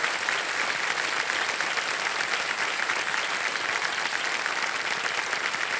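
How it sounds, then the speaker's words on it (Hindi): Studio audience on a TV quiz show applauds steadily, a thick continuous roar of clapping at even loudness from start to finish with no voices standing out. "तालियां बज जाए"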